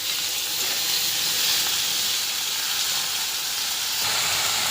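Banana flower sautéed with onions and a little salt in a pan gives a steady, loud, close hiss of frying that holds evenly throughout, with no talking.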